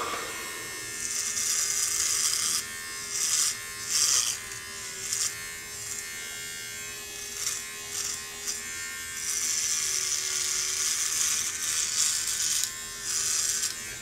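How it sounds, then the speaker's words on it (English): A Micro Touch Solo titanium electric beard trimmer buzzes steadily up close, its whine rising and dipping in short bursts as it cuts hair. "Really not doing too bad as a trimmer, so definitely only good for trimming a beard."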